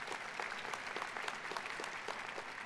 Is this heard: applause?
yes